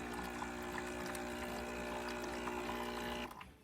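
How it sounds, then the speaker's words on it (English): Water runs steadily from the drip head of a Breville espresso machine, a continuous close pouring hiss over a low hum of the machine that stops abruptly near the end. "Coffee water coming out of the drip head, which wasn't coming out before"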